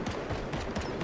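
Rapid, dense bursts of video game gunfire crackle loudly and continuously through a brief firefight, several shots overlapping with no pauses between them.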